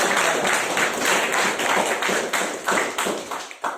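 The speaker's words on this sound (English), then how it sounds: "Big round of applause for her" A small audience claps for a speaker at a speakers forum, close and fairly loud, with distinct individual claps in an uneven rhythm that thins out toward the end.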